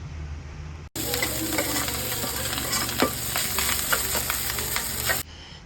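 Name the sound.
crushed garlic sautéing in a pan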